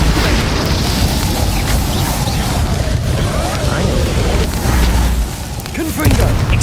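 Fiery Confringo spell blasts in the Hogwarts Legacy video game, a dense run of booming bursts over constant battle noise, with voices talking through the fight.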